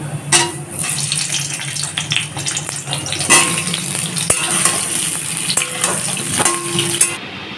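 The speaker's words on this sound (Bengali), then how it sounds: "এখন আলুগুলোকে ভেজে নেব। তেলটা গরম হয়ে গেছে, আলুগুলোকে দিয়ে দেব।" Cut potatoes dropped into hot oil for a Bengali dhokar dalna, a continuous broadband sizzle with scraping stirring and clinks running throughout, fairly close and loud, with no voices.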